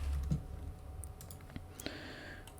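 Computer keyboard being typed on, a short run of light, close clicks and taps at an uneven pace, quiet and without talking.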